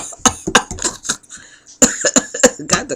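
Repeated coughing in a dusty room, several sharp harsh bursts in two clusters with brief pauses between, close and fairly loud.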